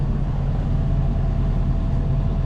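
A John Deere machine's diesel engine settles into a low, steady idle after a forced regeneration, a loud, close, even rumble with no talking.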